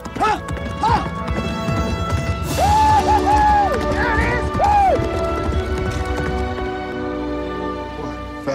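The racehorse Seabiscuit gallops down a track in a rapid drumming of hooves, loud and close, under swelling orchestral music with sustained tones and occasional crowd noise.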